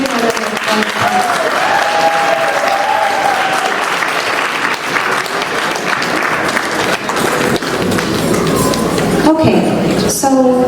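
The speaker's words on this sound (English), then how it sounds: "please give a round of applause, ladies and gentlemen, one more time." Sustained audience applause fills a Ghanaian professionals' annual gala, loud and steady throughout, with cheering voices and a host's speech rising over the clapping.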